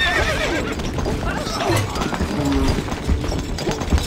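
Horse neighing and galloping in the Stronghold Crusader video game, a whinny followed by rapid hoofbeats and game effects, with voices heard briefly under the sounds.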